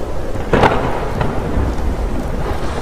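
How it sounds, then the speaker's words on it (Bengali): A heavy thunderclap crashes amid a steady roar of rain, its loud rumble rolling out and fading back into the downpour. "তখন তুমুল ঝড় বৃষ্টি শুরু হলো, আর সেই রকম বাজ পড়ার শব্দ"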